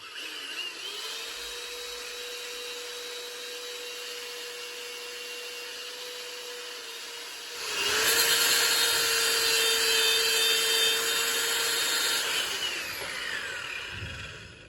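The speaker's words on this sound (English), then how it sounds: "I'm just going to sand it off, and then that'll pretty much fit." A carved piece is sanded smooth with a powered tool that gives a steady high whine. The tone grows louder and rougher for about four seconds in the middle as the tool bears down, then eases off and stops.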